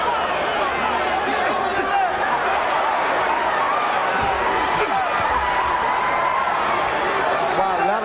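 Boxing arena crowd at the Vladimir Klitschko vs Jameel McCline fight, a loud, steady roar of cheering and hubbub filling the whole stretch, with a commentator's voice over it.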